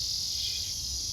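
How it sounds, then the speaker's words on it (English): A cicada buzzes loudly outdoors in a garden, a constant, shrill, droning whine that is close and steady throughout the brief moment, with no talking. "Real loud, because that cicada's going crazy."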